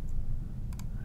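Two quick, close mouse clicks sound in rapid succession while the pen tool is used, over a steady low background hum.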